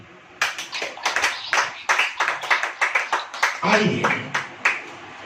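A church congregation claps hands in a quick, loud rhythmic burst of sharp individual claps that repeat unevenly, then overlap with someone speaking.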